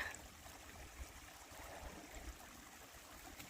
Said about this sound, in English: This is the little stream on the other side of the tent from me.